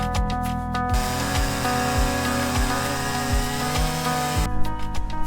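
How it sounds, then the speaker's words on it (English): Chainsaw on an Alaskan mill runs loud and steady while slicing a fallen log into slats, its high whine holding through the cut with periodic lower thumps and no talking. "While I still have the chainsaw set up, let's go mill the remaining logs to create the slats."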